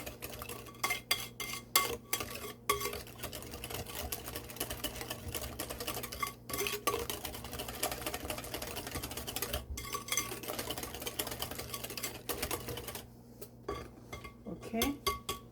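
Walnuts being mixed into apple cake batter in a bowl, with steady scraping and clinking of a utensil against the bowl in a busy rhythm throughout, close and fairly loud, with a background hum and no talk.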